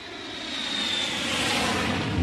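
A fixed-wing airplane engine drones steadily and loudly, a continuous roar that swells slightly over a couple of seconds.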